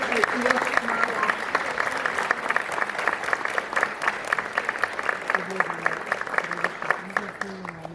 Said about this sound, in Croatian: pozdravimo ih jednim velikim pljeskom